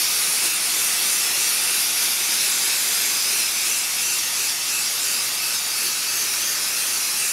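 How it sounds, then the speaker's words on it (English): Spray adhesive hisses from a can onto the back of a Mylar stencil at close range, a continuous loud aerosol spray lasting the whole stretch without pause or talking. "We want to come in with our spray, and we want to spray from about 30 centimeters away"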